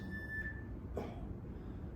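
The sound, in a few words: workout timer beep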